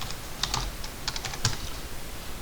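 Quick keystrokes on a computer keyboard while drafting in AutoCAD, a short cluster of crisp clicks including ESC and Enter presses, close and fairly loud in a quiet room.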